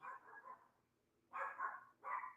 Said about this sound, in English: This damn dog better stop barking.